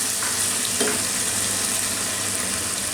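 Beef pieces for a coconut-milk Sri Lankan beef curry fry in a pan, a steady, close sizzle hissing continuously throughout with one brief clink of stirring.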